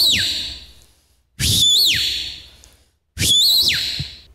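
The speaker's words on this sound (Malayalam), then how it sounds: "മരത്തിന്റെ കമ്പ് വെച്ചിട്ട് വിസിൽ ചെയ്യും" Three loud, separate whistle bursts, each a bright rising and falling tone with a warbling peak, blown on a tree twig, with short silent gaps between them.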